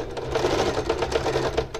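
A sewing machine stitches the side seam of a tulle blouse, running steadily and close with a fast, even mechanical rattle throughout.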